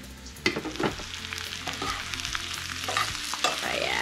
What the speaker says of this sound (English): You can hear it crisping up now.